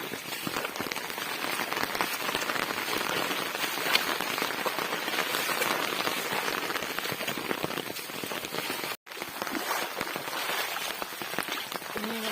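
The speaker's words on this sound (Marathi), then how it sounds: "सगळीकडे पाणी पाणी पाणी इतना पाऊस" Heavy rain falls hard on waterlogged black gram fields with water running across them, a loud unbroken roar of drops lasting throughout, with one momentary gap and no voices.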